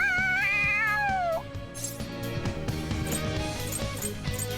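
A cat in the video game Persona 5 Royal lets out an excited, wavering meow that rises and falls, followed by a shorter cry, over a steady backdrop of game music.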